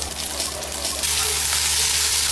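Beef frying in hot oil with garlic in a pan, a dense continuous sizzle that swells louder partway through, close and steady with no talk.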